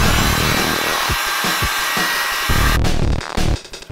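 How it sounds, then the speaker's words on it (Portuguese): Heat gun blowing on fresh spray paint, a loud steady whooshing roar of hot air with small handling bumps, cutting off and restarting near the end. "Agora eu vou usar um soprador térmico para secar ela mais rápido"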